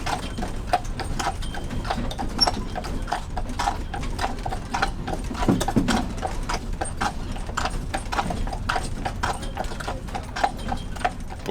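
Horses walk on the road during a nomadic journey, their hooves clip-clopping in a steady, overlapping rhythm at close range, with faint creaks of gear and no speech.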